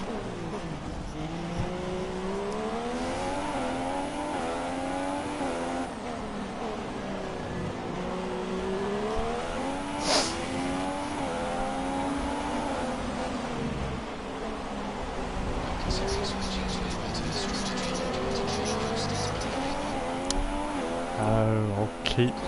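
Formula 1 race car engines from F1 2016 howl steadily through rising and falling gear shifts, with brief sharp bursts and some tire noise, loud and continuous while a voice talks over the top.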